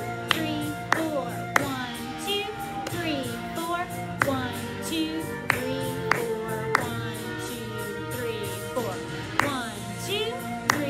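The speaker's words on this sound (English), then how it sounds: "let's count and clap" A class claps sharp, evenly spaced beats in a steady jump-rope rhythm while counting aloud, the claps cutting through sustained flute notes and voices.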